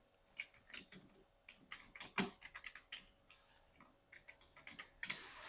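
Typing a line on a computer keyboard in Microsoft Word 2019: a quiet, irregular run of keystroke clicks with a few louder taps, steady for several seconds.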